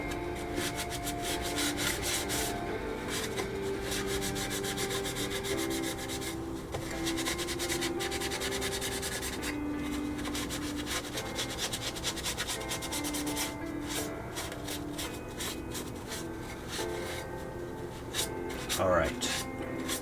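A hand rubs paint overspray off a plastic model kit of the 1990 Batman Batwing, giving steady, close scratchy rubbing strokes in quick repeated bursts, with someone talking quietly over parts of it.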